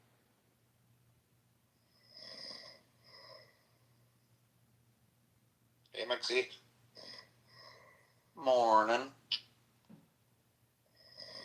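A man snores in several separate rasping bursts, quiet and close, with a brief spoken greeting between the breaths.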